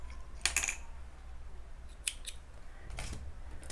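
Scissors snip crochet yarn in a few quick, crisp cuts, close and fairly quiet, with short pauses between the snips.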